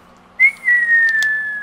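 A person attempts to whistle, producing a single thin, slightly wavering tone that rises briefly and then holds and slowly sags for about a second, close and alone.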